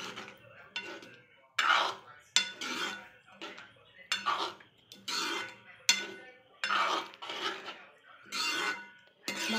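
Cooked vegetables for pav bhaji stirred in a metal pan, with repeated scraping strokes in a steady rhythm, close and moderately loud, with no voice over them.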